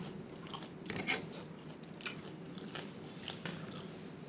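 Crunchy stir-fried shrimp with the heads roasted in, bitten and chewed close up, giving several sharp crisp crunches amid steady soft chewing, no talk.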